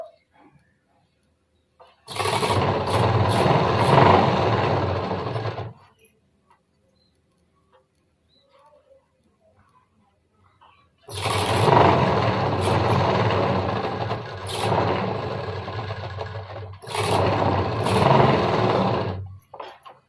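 A sewing machine stitching a uniform shirt runs in two loud, close bursts of fast, steady whirring, with silence between them.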